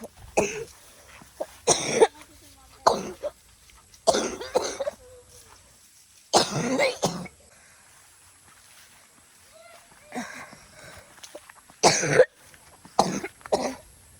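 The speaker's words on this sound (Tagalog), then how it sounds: "Grabe po guys ang ubo ko." Repeated harsh coughing fits, close and loud, in bursts separated by quieter pauses with some faint background noise.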